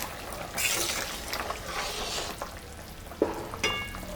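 Rohu fish dropped into a hot pan with mustard paste and green chillies, giving a sustained sizzle and frying crackle with a few stirring clatters, fairly close and moderately loud.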